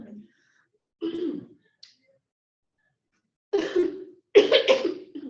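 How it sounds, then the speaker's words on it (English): Several short, rough coughs come in separate bursts, close to the microphone, with a pair of harder coughs near the end. "And I apologize for my cough."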